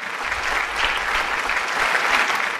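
Crowd applause at a Tamil Independence Day special debate as a speaker is welcomed, a full continuous round of clapping that swells slightly and stays loud throughout.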